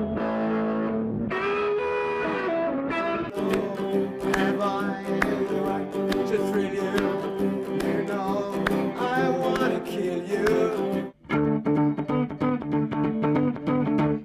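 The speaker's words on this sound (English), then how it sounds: "And that's where you can see the distortion just starts to get." A distorted electric guitar played through a VOX AC30 valve amp, thick sustained chords and notes ringing loud and steady, briefly cutting out near the end before resuming, with no voices.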